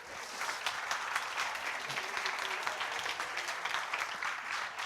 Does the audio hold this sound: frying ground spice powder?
no